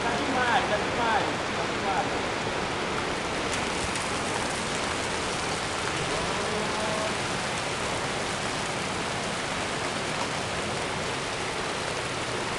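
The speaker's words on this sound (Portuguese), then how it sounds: "E não para de cair, ó. Aqui no Rio Grande do Sul tá assim, bastante, ó. E a chuva cai, tá demais" Heavy rain with hail pours steadily during a hailstorm in Rio Grande do Sul, a dense, continuous hiss of drops striking surfaces close by, with a few sharper ticks early on and no let-up across the whole stretch.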